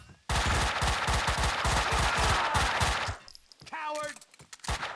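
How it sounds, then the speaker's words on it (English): Rapid, loud Desert Eagle pistol gunfire in Max Payne, a dense rhythmic string of shots lasting about three seconds, then a pause and game voices with a few more scattered bangs. "That's a deagle."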